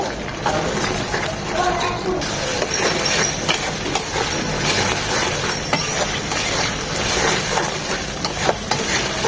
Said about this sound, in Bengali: একসাথে সব ভালোভাবে কষিয়ে নেব খুব ভালোভাবে মশলাগুলো কষিয়ে নিতে হবে